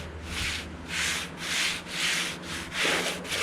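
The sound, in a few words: sanding with 60 grit sandpaper on a wood block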